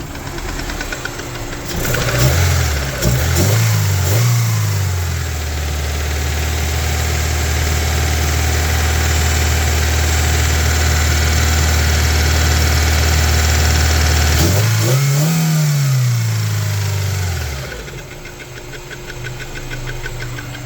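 A Honda Civic EF sedan engine idles roughly and keeps trying to stall, its revs dipping and surging near the start, then holding a steady low drone before another sag and recovery, close and loud, no talking.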